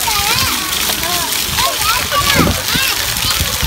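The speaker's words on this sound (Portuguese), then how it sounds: "O Matheus é brigando com a água, gente." A child splashes and sloshes in water at a children's play park in Japan, with steady, close splatters and bursts of kids' voices and adult talk throughout.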